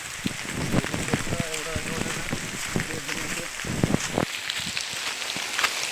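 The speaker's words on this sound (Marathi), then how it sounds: "हा पाऊस पडतोय" Steady May pre-monsoon rain pattering on a surface with scattered louder drops; a voice is briefly heard over the downpour.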